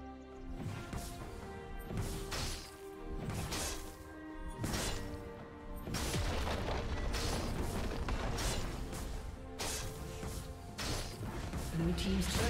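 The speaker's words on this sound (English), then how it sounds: "Blue team's turret has been destroyed." A turret is destroyed in League of Legends, giving a loud crash with smashing, creaking debris under busy game music and effects, and a second burst of impacts follows a few seconds later.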